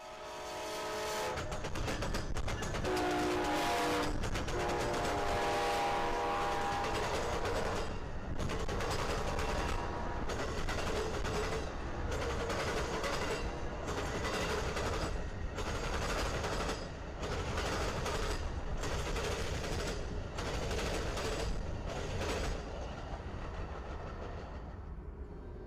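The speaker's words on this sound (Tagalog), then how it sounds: "habang dumaraan ang tren sa dalawang diamond ng riles" An Amtrak Floridian passenger train near Lakeland, Florida, rolls over rail diamonds and sounds its horn early on. Loud, close rumbling continues throughout, with a regular rhythm of sharp clickety-clack wheel impacts as the cars cross the diamond.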